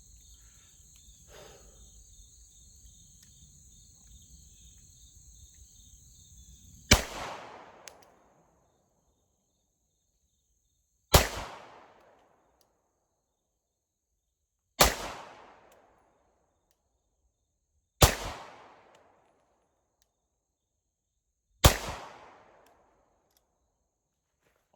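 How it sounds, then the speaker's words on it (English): Five slow, evenly spaced pistol shots from a Shadow Systems MR920 firing Blazer brass ammunition, each a loud sharp crack with a short decaying echo outdoors, after a stretch of faint insect chirping and a few light rustles. "all of these are going to be slow fire to where I can try to focus on accuracy"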